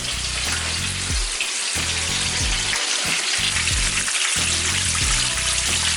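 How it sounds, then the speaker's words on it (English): Steady loud sizzling of chicken deep frying in hot oil, a dense hiss that continues without pause, with faint low thumps underneath. "I'm gonna drop all this chicken in"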